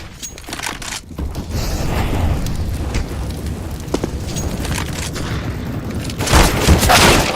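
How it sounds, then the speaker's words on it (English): A flashbang grenade detonating in the shooter game CS:GO, a loud sustained burst of noise that swells again near the end, with no voices over it. "Flashbang."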